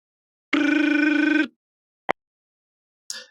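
A telephone ringing during a callback: one electronic ring tone of about a second, followed by a sharp click and a short, higher chirp, with no talking.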